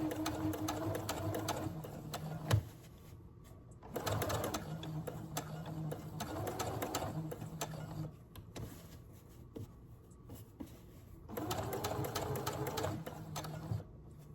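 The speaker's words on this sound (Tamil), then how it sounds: "பொறுமையாக துணியை திருப்பி அந்த சர்க்கிளை ஸ்டிச் பண்ணணும்" A sewing machine stitches a circle on cloth, running in loud, steady bursts of several seconds each, separated by quieter pauses while the fabric is turned; no voices.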